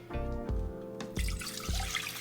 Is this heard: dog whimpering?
no